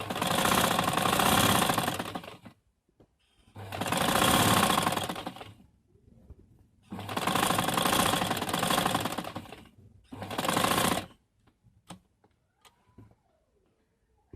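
A sewing machine stitches the collar of a ladies' suit near buckram interfacing. It runs in four loud, steady whirring bursts of about two seconds each, with near-silent pauses and small handling clicks between them.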